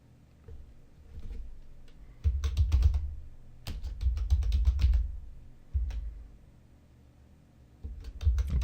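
Typing on a computer keyboard during graphic design work, with bursts of quick clicking keystrokes that come in clusters and pause between words, close and fairly loud, with no talking.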